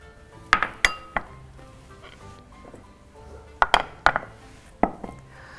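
Metal utensils clink and clatter against a pan as meat is added to a pan with tomato paste, in short clusters of sharp knocks with quiet gaps between, close up in a kitchen.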